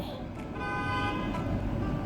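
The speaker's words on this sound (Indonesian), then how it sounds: "Maaf suaranya di luar ada mobil" A car horn sounds outside an apartment, a sustained honk over steady traffic rumble, somewhat distant and muffled, with indoor kitchen noise alongside.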